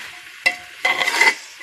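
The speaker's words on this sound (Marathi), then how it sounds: "आता हे मिक्स करून घेते." Spices being stirred into rice for masale bhat, a spoon scraping and tossing the grains in two short bursts, close and fairly loud, with a soft sizzle and no talking.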